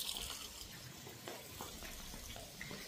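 Water runs steadily into a pot of rice in a home kitchen, a continuous close splashing wash under faint background noise.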